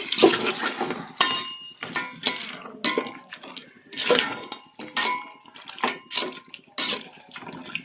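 Marinated chicken for a village-style biryani is stirred in a cooking pot, giving repeated wet scraping and clanks of a spoon against metal in an irregular rhythm, close and fairly loud, with no speech.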